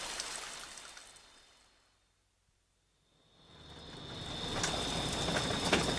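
Heavy rain pours down in a forest as a dense hiss, fading to near silence midway before swelling back up, with scattered sharper drops.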